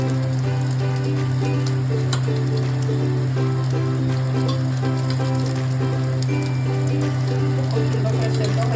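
Samosa potato filling frying in a pan gives a steady, close sizzle with a constant low hum underneath throughout, and a voice talks over part of it.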